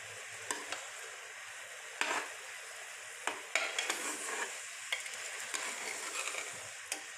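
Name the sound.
frying and stirring chickpeas (chola boot) in oil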